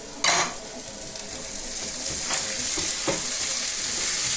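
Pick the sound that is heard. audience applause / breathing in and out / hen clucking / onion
onion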